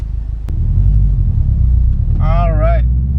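A Subaru WRX/STI with a catback exhaust gives a loud, deep rumble that drones steadily close by, with a sharp click early and a brief voice-like tonal sweep near the end.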